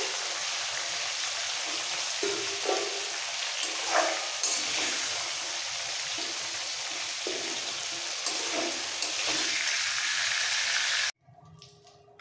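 Vegetables for a Bengali sukto fry in oil, giving a dense steady sizzle with occasional stirring scrapes and clinks that carries on for most of the stretch, then drops off abruptly near the end.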